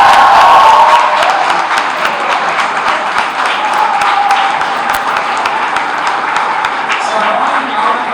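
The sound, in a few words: audience applause at awards ceremony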